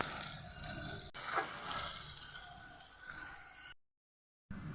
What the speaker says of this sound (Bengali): পেঁয়াজটা খুব ভালোভাবে ভাজা হয়ে গেছে